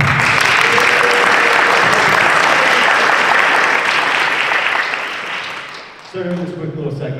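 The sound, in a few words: audience applause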